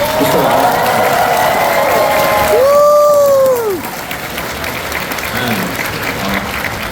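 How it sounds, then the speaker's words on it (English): Steady, loud applause from a large crowd at an Anime Expo 2025 panel fills the whole stretch, with a brief voice rising over it midway before the clapping carries on. "Just get another massive round of applause."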